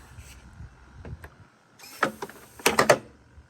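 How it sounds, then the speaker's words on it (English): A Robart pneumatic retractable landing gear retracting on a model aircraft: a soft hiss, then a burst of whirring mechanical clicks and sharp knocks as the gear pulls up, close and fairly loud. "And we'll pull the gear up."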